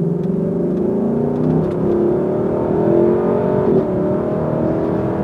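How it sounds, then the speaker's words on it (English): A Lexus LC500 convertible's naturally aspirated V8 rasps steadily close by, its tone rising and falling slightly as the revs shift, with no voices over it. "Just a really nice rasping sound you get from that naturally aspirated V8."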